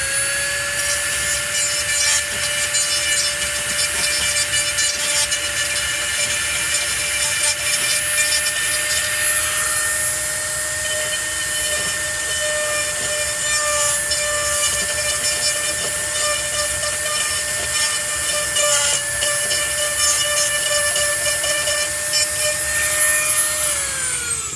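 A power tool cuts steadily into the plastic chassis of a 1/6 scale Hasbro GI Joe Willys jeep for an RC flat fender crawler conversion, producing a continuous loud, close buzzing whine that rises and falls slightly in pitch throughout.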